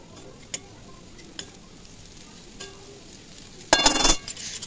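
Chicken chow mein with spices is stirred in a pan: a few scattered light taps and scrapes, then a louder burst of sizzling and scraping near the end, over a quiet background.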